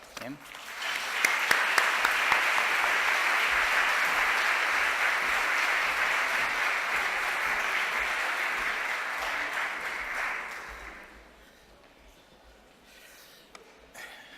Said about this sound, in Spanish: Vamos a recibirle con un aplauso.